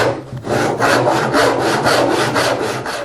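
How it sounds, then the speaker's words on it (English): Hand saw cutting through a wood block to free a marking gauge head, steady close-up back-and-forth strokes in an even rhythm, loud and alone with no talk. "Now I can cut the head free from the rest of the block."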